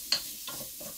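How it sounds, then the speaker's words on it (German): A spoon scrapes and stirs tomato paste into a hot frying pan for a vegan tofu stroganoff, giving three soft strokes over a faint sizzle, close by and quiet. "Ich rühre das mal gerade mit runter."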